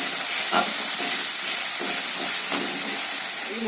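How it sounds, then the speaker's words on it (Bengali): Spice paste frying in oil in a wok for a Bengali rohu fish curry gives a steady, close hiss of sizzling, with soft stirring scrapes rising now and then. "দিয়ে আমি একটু মশলাটাকে একটুখানি হালকা হাতে কষে নেব"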